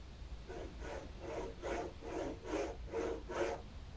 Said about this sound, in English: Why does it sound like you're sawing something whenever you do that?